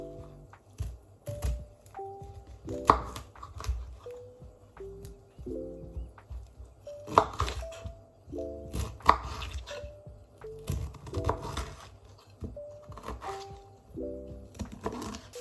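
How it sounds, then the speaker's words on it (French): Broccoli being chopped with a kitchen knife on a board, a steady run of crisp, close-up cuts and thunks in irregular bursts throughout, with no talk over it. "Je vais couper le brocoli."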